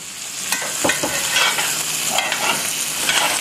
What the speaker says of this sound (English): I'm going to put this on its side, and I'm going to just start basting this thing with the butter